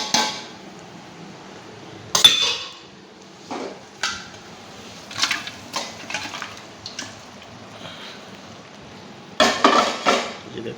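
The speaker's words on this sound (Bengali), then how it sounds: "তো এখন আমি এই মাংসটা এটার মধ্যে পুরোটা দিয়ে দেব।" Beef pieces tipped into a pot for Arabic beef nashif, several scattered clanks and scrapes of a utensil against the metal pot, close and moderately loud with quiet gaps and no talking.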